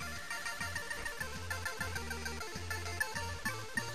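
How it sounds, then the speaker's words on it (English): Repeated electronic phone-style tones ring out in a steady pattern of short bursts inside busy McKids video game audio, with no talking. "My cell phone's beeping."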